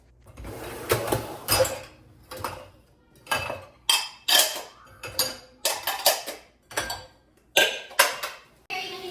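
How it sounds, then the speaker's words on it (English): Dishes and cutlery clattering during dishwashing at home, a busy run of sharp clinks, scrapes and knocks in irregular bursts, loud and close with no talk. "So let's do the dishes."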